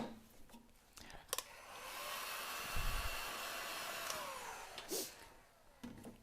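A heat gun blowing hot air to shrink heat shrink tubing on a Mazda MX-5 wiring loom fitted in an MK Indy RX-5 kit car, a steady whooshing hum lasting several seconds with brief clicks and handling noises around it.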